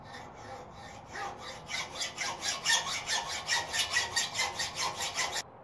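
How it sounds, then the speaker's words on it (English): An old-fashioned hacksaw cuts through metal in a steady back-and-forth rhythm of rasping strokes, close by, gradually growing louder before stopping abruptly. "So you can use the old fashioned hacksaw."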